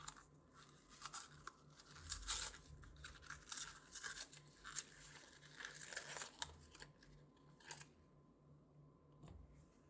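A cardboard box holding a Raspberry Pi Compute Module 5 is ripped open by hand, giving faint, irregular crinkling and tearing bursts close by in a quiet room.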